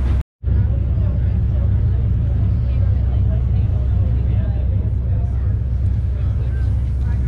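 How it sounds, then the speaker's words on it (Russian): Diesel motor of a nearby catamaran on a Boston evening cruise runs as a steady, loud low rumble throughout, broken only by a brief dropout near the start, with voices faintly over it. "Катамаран рядом дымит воняет вообще, мотор работает."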